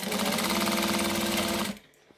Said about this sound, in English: I'm going to stitch